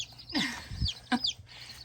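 Baby chicks peep and chirp in quick, high bursts, a few overlapping calls with soft clucking noises, nearby and fairly quiet.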